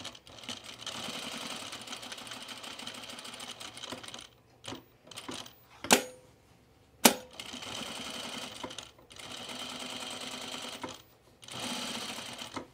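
A home sewing machine runs in steady whirring stretches while top stitching a double row on a shirt collar, with short pauses and a couple of sharp clicks between runs, close and clear.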